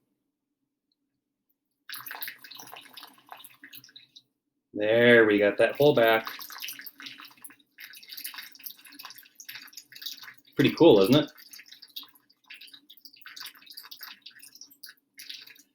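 Water poured slowly into a mix of sand and clay, giving soft, faint trickling and wet bubbling. Someone talks over it for most of the clip.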